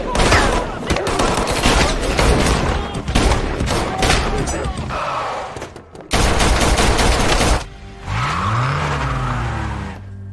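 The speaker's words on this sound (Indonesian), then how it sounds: "Sofia pun langsung menembak pria itu, yang akhirnya mengharuskan mereka menghadapi semua anak buahnya" Rapid gunfire and bursts of automatic weapons fire in a film fight scene, loud and dense, mixed with vehicle noise and a tire squeal, with brief voices in between.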